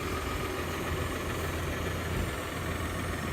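A tractor engine idles close by with a steady low rumble and a faint vibration, before mowing fescue hay with a Kuhn GMD 800 HD 10-foot mower.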